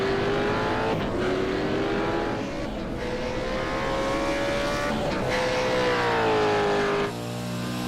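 A race car in iRacing on a hot lap at Spa-Francorchamps, its engine a loud, continuous high drone rising through the gears with brief dips at each shift, heard from onboard.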